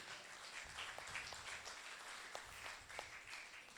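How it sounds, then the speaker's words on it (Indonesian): Congregation clapping during a church prayer service, offered as applause for God; faint, steady patter of many hands with scattered sharper claps, fairly distant and soft throughout. "Tepuk tangan untuk Tuhan"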